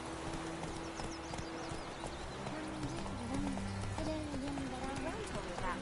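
Roach, a horse in the video game The Witcher 3, gallops with a steady clip-clop of hooves, and a voice is heard throughout alongside music and game sounds.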